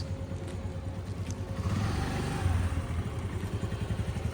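A small Activa motor scooter engine putters steadily nearby, its low rhythmic hum rising slightly midway, with faint clatter in the background.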